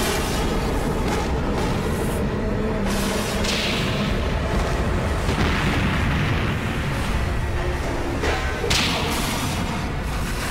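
Sound effects for a nuclear disaster documentary: a dense, sustained roar of booming, whip-like cracks and whooshing blasts that stays loud throughout, with no speech.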